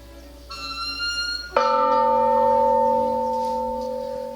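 A second church bell at the Igreja Matriz de Socorro rings out with a loud strike after a fainter tone, its deep resonant hum sustaining and slowly fading, heard up close.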